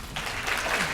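An audience at a state education address applauds a teaching excellence award. A brief, soft burst of clapping starts just after the opening moment and runs to the end of the one-second span.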